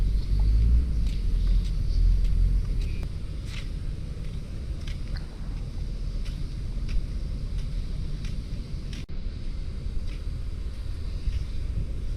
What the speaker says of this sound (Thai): ขับรถเข้ามาในตัวเมืองห้วยทรายนะ